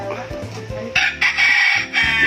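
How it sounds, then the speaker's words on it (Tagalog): A rooster crows loudly and close among clucking egg-laying chickens, one long crow rising over a low hum of background noise, with no speech. "yung mga manok na galing dito, Jenalyn, nangingitlog na lahat"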